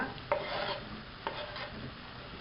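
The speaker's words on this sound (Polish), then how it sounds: "Do podsmażonego pora z pieczarkami dodaję kiełbaskę" Sausage pieces go into a pan of frying leek and mushrooms, giving a steady low sizzle with a couple of sharp scraping stir strokes, close and alone without talk.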